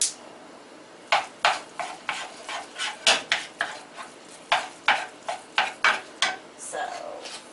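Ground turkey being broken up and stirred with a utensil in a hot pan for chili, a series of sharp scraping strokes against the pan over a low sizzle.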